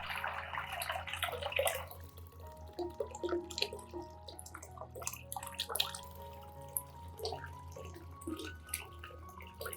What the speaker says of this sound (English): Pour 2 liters of water into a container.